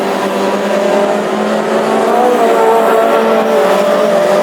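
Classic hot rods race on an oval track in Tipperary, their engines roaring loudly and continuously as several cars accelerate together, with rising and falling engine pitch and a hint of tire squeal.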